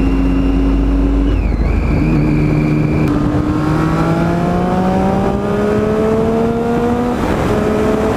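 A Triumph 675 Street Triple motorcycle accelerates hard through several gears, its engine note rising in steady sweeps with brief drops at each shift, loud and close over wind noise.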